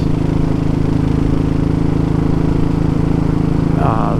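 A Royal Enfield 500 GT motorcycle engine drones loud and steady while riding, with an even, unbroken thrum close to the listener throughout.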